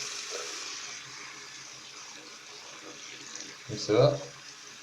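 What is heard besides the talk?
water rinsing a cleaned Irish flute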